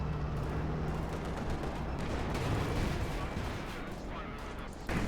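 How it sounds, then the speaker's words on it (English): Tank cannon fire and battlefield combat in the Company of Heroes 2 video game with a Stu 3G facing a KV-2, heard as a dense, loud, continuous rumble of shots and blasts. "Shot bounced."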